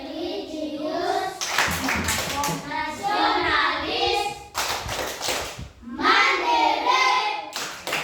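A class of children performs the PPK clap chant, calling out words in unison and answering with bursts of rhythmic hand claps between the spoken phrases.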